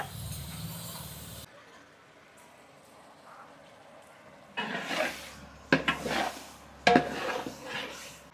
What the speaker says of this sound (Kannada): ಮಟನ್ ಹಾಕಿದ್ಮೇಲೆ ಒಂದು ಐದು ನಿಮಿಷ ಫ್ರೈ ಮಾಡ್ಕೊಳ್ಬೇಕು